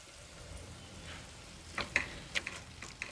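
Ginger and garlic sautéing in a pan for pav bhaji, a steady soft sizzle with sharp crackles and pops that grow more frequent toward the end.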